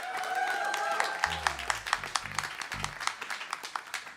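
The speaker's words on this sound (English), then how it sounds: "Give him a big round of applause." Audience applause at a live tech event near WWDC 2023, a crowd clapping loudly from the start and then thinning into scattered, uneven claps, with a few low voices underneath.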